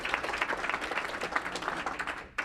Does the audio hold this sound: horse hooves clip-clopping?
no